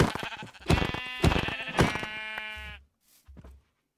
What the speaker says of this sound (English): Ooh, there's sheep down here.